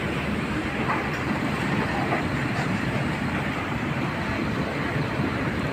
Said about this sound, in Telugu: ట్రైన్ అయితే పోతూనే ఉంది. Full load.